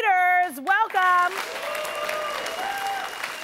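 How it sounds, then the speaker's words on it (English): Audience applause at a school quiz show, a steady wash of clapping that follows a burst of singing or cheering voices at the start and carries on under the hall's sound. "let's go ahead and give them a big round of applause"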